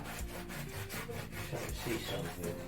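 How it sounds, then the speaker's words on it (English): Close, steady back-and-forth rasping strokes as a wooden sink area is sanded by hand, in a quick uneven rhythm. "I'm sanding down the sink area"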